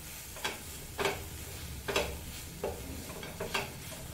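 Ketchup and pizza sauce stirred together in a pan, heard as several spaced, distinct scraping strokes over a faint low sizzle, fairly quiet and close.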